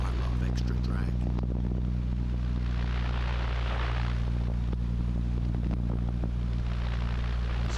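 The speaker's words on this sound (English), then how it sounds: "we're really kind of pushing the engine in order to be able to get the plane to maintain the speed" A light airplane's engine is pushed hard with flaps set at 40 degrees, making a loud, steady droning hum with strong low harmonics that runs continuously, heard from inside the cockpit under some talk.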